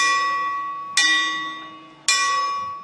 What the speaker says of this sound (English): a single bell rings,